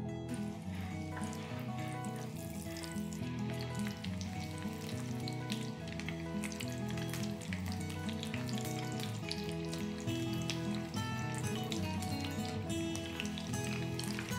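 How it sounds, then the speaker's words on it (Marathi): Veg lollipops deep frying in hot oil give off a loud, steady, dense sizzle with crackling bubbles throughout, close up and with no talking. "याच प्रकारे आता बाकीचे लॉलीपॉपही तळून घेऊया."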